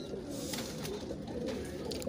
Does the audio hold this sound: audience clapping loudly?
no